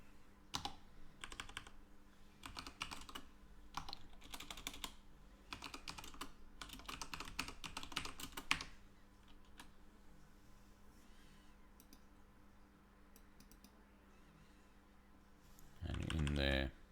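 Rapid clicking of a computer keyboard during typing, in quick bursts over the first half, then a steady low hum, with a brief louder rustle near the end.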